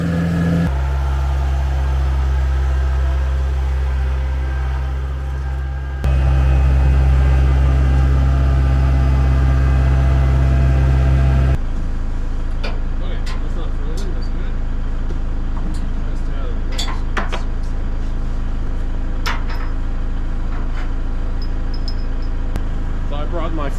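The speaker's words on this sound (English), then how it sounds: "Sorry about the loud noise on the tractor." A Kubota L4060 tractor engine drones loudly and steadily at close range during a regen cycle, with shifts in its tone partway through and faint clatter over the rumble.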